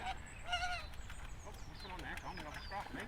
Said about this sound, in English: we've got a little duck fight going on the back of the reed bed